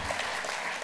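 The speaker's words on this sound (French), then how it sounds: "Et vous pouvez encore applaudir André Bouchard chaleureusement." A short burst of steady crowd clapping at a cdH New Year's gathering in Luxembourg province, Belgium, for André Bouchard, dense and even with no voices standing out.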